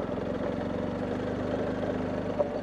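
A BMW R1250GS Adventure motorcycle's boxer engine runs at a low, steady drone during a long ride, a continuous faint rumble with no voices over it.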